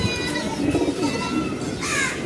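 Pigeons coo repeatedly close by, soft low calls rising and falling over a steady bed of background noise, with a brighter chirping burst near the end; the birds are old-breed Bagha pigeons.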